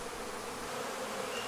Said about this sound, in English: most of the bees in here are worker bees